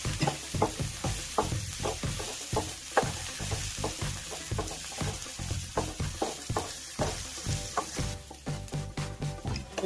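Onions sizzling and frying in a pan with garlic, a steady loud crackle broken by rhythmic scraping stirs, no voices.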